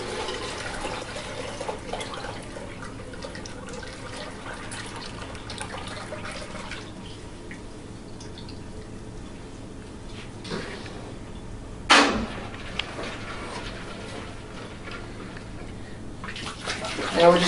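Beer wort poured through two strainers and a funnel into a carboy, a continuous low liquid trickle and splashing with a few sharper clinks and splashes, while a person talks intermittently.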